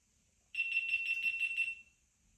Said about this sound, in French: Ça fait un bruit spécial quand même, on dirait une alarme.